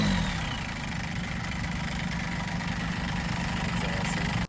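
A Kubota turbo diesel engine fitted to a custom motorcycle idles steadily and close by, a continuous low, knocking rumble that holds even throughout before cutting off abruptly at the end.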